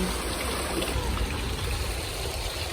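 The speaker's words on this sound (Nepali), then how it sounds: "यसलाई भनिन्छ पानी।" Water flows steadily with a continuous rushing, gurgling wash that stays even and fairly close for the whole short stretch.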